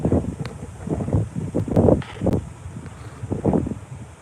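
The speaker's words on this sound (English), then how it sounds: "The wind's picking up a little bit." Wind gusts outdoors, buffeting the microphone in uneven rushes and lulls of low rumbling noise, with a few brief sharp clicks.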